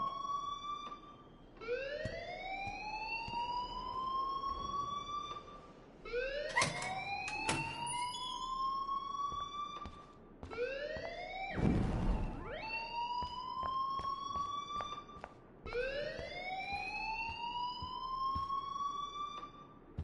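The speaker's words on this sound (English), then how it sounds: "please turn off that alarm since that's your job" A loud alarm in a PS4 video game wails in repeated rising sweeps, four long cycles each climbing in pitch, with a brief burst of noise midway and no talking.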